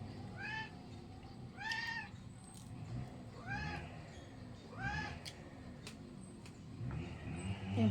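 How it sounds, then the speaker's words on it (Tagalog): A pet cat meows repeatedly over a meal of fried danggit and tulingan, several clear rising-falling calls spaced about a second apart, fairly close, with light background clatter and no talk. "yung pusa ko."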